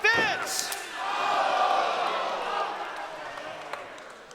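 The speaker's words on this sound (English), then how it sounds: "Canadian Destroyer, Karleena Gore! And the crowd can't believe it!" Wrestling arena crowd in a triple threat match erupts in a loud, sustained roar with shouts after a Canadian Destroyer, swelling then slowly easing over several seconds, with an announcer's voice over it.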